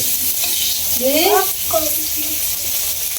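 Sliced onions fry in a pan with a continuous sizzling hiss while a person speaks briefly over it.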